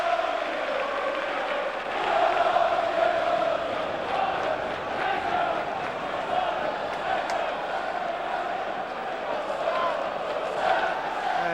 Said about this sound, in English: Ayresome Park has pulled in a cracking crowd